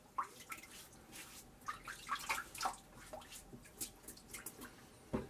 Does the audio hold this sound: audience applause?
no